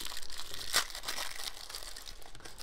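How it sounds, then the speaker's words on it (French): A small plastic bag from a Masters of the Universe Battle Armor He-Man figurine box being unpacked, giving close, faint crinkling and rustling with a sharper tearing crackle near the start. "On va déballer ce qu'il y a dans le petit sachet."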